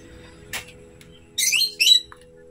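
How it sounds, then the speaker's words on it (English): Pet lovebirds in a garden in the Philippines after a storm give two short, harsh squawking bursts close by, with a faint chirp in between and quiet surroundings. "our pet lovebirds"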